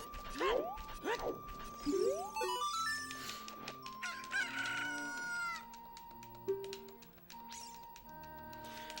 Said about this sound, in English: Now it's a happy chicken.